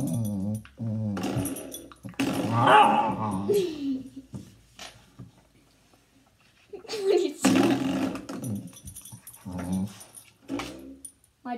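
A dog growls and whines in short bursts, with quieter gaps between them. A person talks close by, and the vocal sounds rise and fall over the clip.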